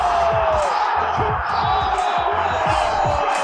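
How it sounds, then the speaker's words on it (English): A dense, loud roar from an MMA arena crowd celebrating a fighter's win, sustained yelling and whooping without a break, with scattered louder shouts rising above the mass. "Bam Bam celebrated to the deafening roar of the crowd."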